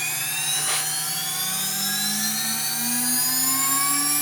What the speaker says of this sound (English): now I'll fire up my spindle. You'll hear it kick on in the background